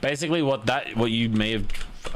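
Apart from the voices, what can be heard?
No everyday noises stand out.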